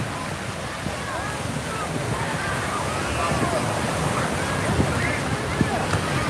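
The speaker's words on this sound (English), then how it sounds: "this Hurricane Ernesto waves. Dangerous swimming conditions." Surf from Hurricane Ernesto rolling in on a Brooklyn shore, a constant roaring wash with gusty wind buffeting the microphone, swelling slightly louder toward the end.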